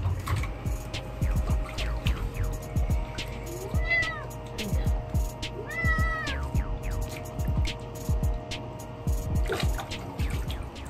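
Sphynx cats meow repeatedly during a short bath, the cries rising and falling over a steady background hum, with occasional water drips and faint speech nearby.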